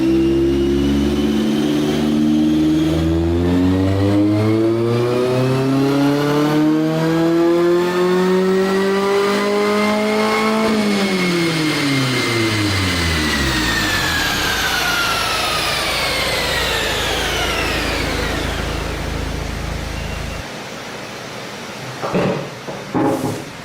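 A turbocharged Mazda ND Miata engine revs up on a dynamometer, rising in a long sustained climb with a strong harmonic whine before the throttle drops off and it winds down, loud and close with no talk.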